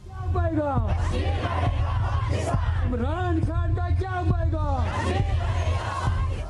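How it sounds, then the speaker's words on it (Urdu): Loud crowd at a martyr's funeral in Kulgam, south Kashmir, chanting Imran Khan slogans in rhythmic bursts of massed voices and yells, with a steady low rumble beneath and no pauses. "شہید ہونے والے نوجوانوں کے جنازوں میں وزیراعظم پاکستان عمران خان کے نعرے لگائے جاتے ہیں"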